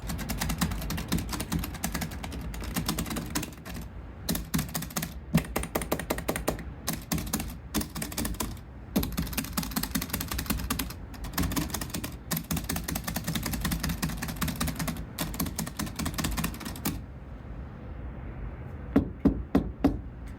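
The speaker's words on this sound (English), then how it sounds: "for those who like ASMR, here's some button ASMR for you" Buttons on a Panzer Fightstick IV arcade controller pressed in quick clicky bursts, close and crisp, in rhythmic clusters separated by short pauses, a few isolated clicks at the end.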